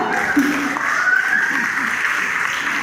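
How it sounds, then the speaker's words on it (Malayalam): Wedding guests clap steadily at a Christian wedding reception, with music or voices mixed into the continuous applause. "അപ്പൊ ഒരു സ്പെഷ്യൽ കൈയടി കൊടുക്കണം കേട്ടാ"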